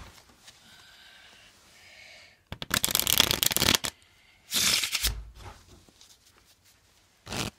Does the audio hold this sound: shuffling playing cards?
yes